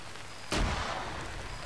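A grenade explosion in the military shooter Arma 3 bursts once, sharp and loud, then trails off into a rumbling decay over a steady background.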